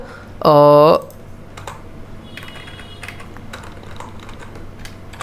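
Computer keyboard typing while code is entered during a Python programming lesson, heard as soft, scattered key clicks after a short loud tonal burst at the start, with a steady low hum underneath.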